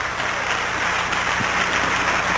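A congregation at a Korean New Year blessing revival meeting breaks into steady, dense applause, a continuous wash of many hands clapping at once that fills the room at a constant loud level.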